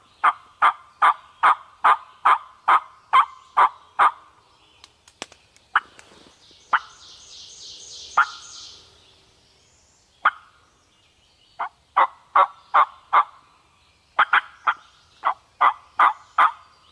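Wild turkeys gobble repeatedly in the woods, rapid rattling bursts in steady runs with short pauses, fairly close and clear over a quiet background with an occasional softer bird call.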